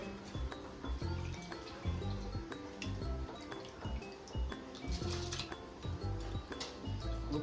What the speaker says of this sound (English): So now we'll slowly add this rice into this boiling water.